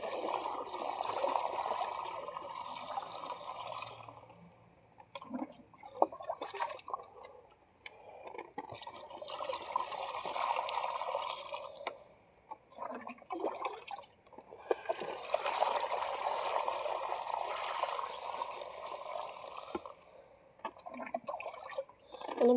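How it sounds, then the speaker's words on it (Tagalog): Water poured in repeated bursts, a soft trickling and splashing that swells and fades three times, fairly quiet, with some faint clatter and noise between pours. "Dagdagan ng tubig."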